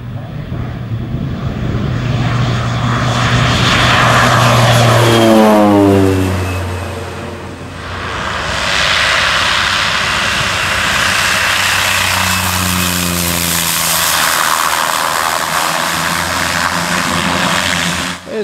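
Air Tractor 402 agricultural aircraft with a 680 horsepower turboprop engine making a display flight, a loud continuous turbine roar with propeller drone that swells, shifts pitch in two Doppler sweeps as it passes, dips, then builds again.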